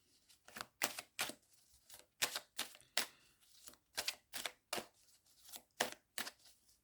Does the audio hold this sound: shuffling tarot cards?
yes